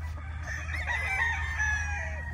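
Gray gamefowl roosters crow and cluck in a steady farmyard chorus, with overlapping calls rising through the whole stretch over a low continuous background hum.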